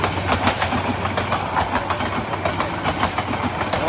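A passing train rattles close by with a steady, rhythmic clickety-clack of wheels over rail joints above a low rumbling drone.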